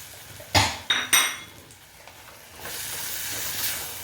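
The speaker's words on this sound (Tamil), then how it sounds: "ஒரு முருங்கைக்காய் இதையும் சேர்த்து அப்படியே வதக்குவோம்" Several sharp metallic clanks of a utensil against a pan, then a steady sizzling hiss of moringa drumstick pods sautéing in masala nearby, for a butter bean curry.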